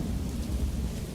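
Rain falls steadily in the video game Morrowind while deep thunder rumbles low beneath it, a continuous dense storm with no voices.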